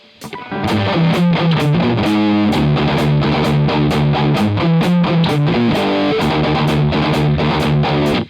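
A heavily distorted electric guitar in drop D tuning, played through the rear pickup around 130 beats per minute, chugs a loud, driving riff with ringing palm-muted notes, alone and up close.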